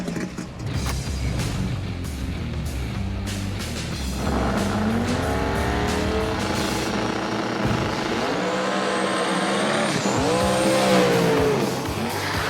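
A street race car makes a solo pass down the road in a Street Outlaws no-prep street race, the engine roaring and climbing through gears with squealing tires, loud and continuous.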